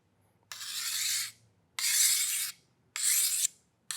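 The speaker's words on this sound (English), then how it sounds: "You can sharpen the machete in sections, or you can try and get the full edge in one go." Three long, even rasping strokes of a sharpener drawn along a machete blade, each about a second long and separated by short pauses, close and fairly loud with no talking.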